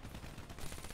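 Gunfire in the video game Black Ops 3, a brief dense burst of rapid automatic shots from a submachine gun, loud and continuous over one second.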